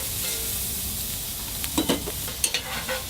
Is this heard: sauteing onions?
yes